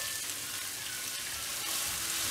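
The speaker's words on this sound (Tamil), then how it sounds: "நல்லா ஃப்ரை பண்ணணும் வெங்காயம்." Onions frying in a pan for a hotel-style vegetable kurma give off a steady, close sizzle and crackle, even and unbroken, with no voices.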